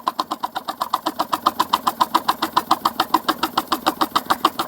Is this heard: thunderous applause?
no